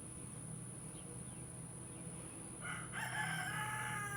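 A rooster crows once toward the end, a bit distant, over a steady background hum and faint insect buzzing.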